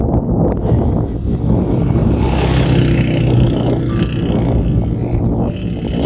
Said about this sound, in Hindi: गाड़ी नहीं थी, बाइक थी, उसकी शोर बहुत ज्यादा था